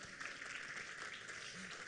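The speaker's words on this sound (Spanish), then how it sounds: "Dale ese aplauso fuerte al Señor." A church congregation applauds together during a sermon, a sustained wash of clapping heard faintly and at a distance without a break.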